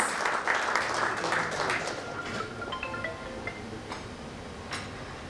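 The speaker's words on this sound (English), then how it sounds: "can we please have a huge round of applause for ma'am?" Audience applause at an Indian launch event for a doctor-patient network: dense clapping that starts fairly loud, then slowly thins and fades over several seconds, with a few faint voices mixed in.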